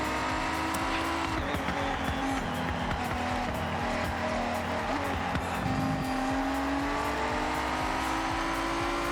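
A car laps a track in the video game Forza Horizon 6, the engine droning and revving continuously with tire squeal through the corners, loud and with no voices.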